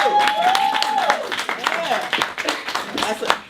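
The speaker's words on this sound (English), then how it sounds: "Clap for her." A small audience claps at a business gathering, with brisk, uneven applause under overlapping voices and whoops for a few seconds.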